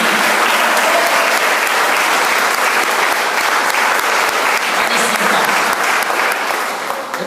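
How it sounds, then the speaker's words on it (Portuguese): A church congregation at an evening service claps loudly and continuously, a dense, steady wash of applause filling the room throughout. "Vamos aplaudir Jesus bem forte, amém?"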